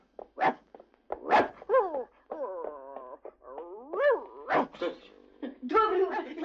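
A dog barks, yips and whimpers in short, close bursts mixed with voices talking.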